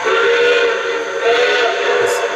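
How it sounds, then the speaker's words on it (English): A sound-system whistle on an O-scale model steam locomotive blows one steady, loud, breathy steam-whistle tone for about two seconds, with no voices. "So here is the whistle here."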